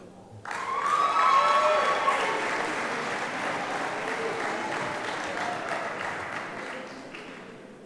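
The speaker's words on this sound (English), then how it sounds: "Please join us in giving our whole program a round of applause." Audience at a 2017 athletic awards banquet bursts into applause for a softball program, with a sudden onset of dense clapping and a few cheers and whistles, gradually thinning toward the end.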